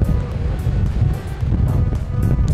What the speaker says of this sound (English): it is exceptionally windy around here